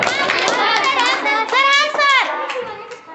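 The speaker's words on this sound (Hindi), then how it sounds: "ताली बजा दो।" Children in a classroom clap their hands in quick, sharp bursts close by, mixed with excited young voices and chatter.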